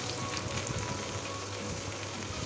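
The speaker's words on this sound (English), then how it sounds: "So now I'm going to fry again my french fries" French fries sizzling steadily in hot oil during a second fry for crispy honey chili potatoes, a dense continuous crackle and hiss heard close and alone.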